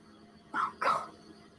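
A dog lets out two short barks or yips in quick succession indoors, near and moderately loud, with no one talking over them.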